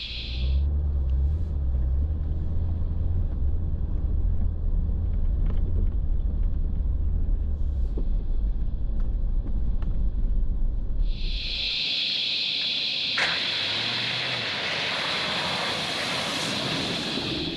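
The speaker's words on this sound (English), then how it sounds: "Now we're driving on the road into Telegherry Campground." Car driving along a forest road into a campground, giving a steady low engine and tyre rumble inside the vehicle; partway through the rumble drops and a brighter hiss takes over.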